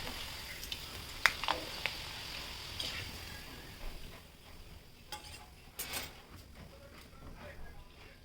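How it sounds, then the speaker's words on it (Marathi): Wheat kurdai fry in a small amount of oil with a soft, steady sizzle and occasional clinks of a utensil. A voice talks faintly over it. "कमी तेलामध्ये मी तळली."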